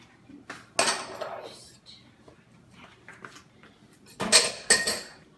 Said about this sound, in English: I'm just going to clear my dishes into the sink.